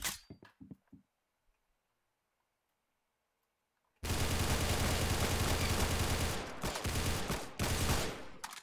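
After a few faint clicks and a stretch of near silence, a dense, loud burst of rapid gunfire erupts and continues without a break during a 1v1 match in the Roblox shooter Arsenal.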